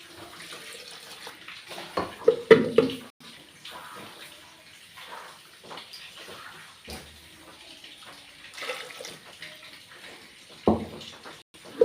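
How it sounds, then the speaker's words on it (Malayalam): Water splashes and pours into a cooking pot in short bursts, close by and moderately loud, with quieter clattering between pours. "വെള്ളം ഒഴിക്കും"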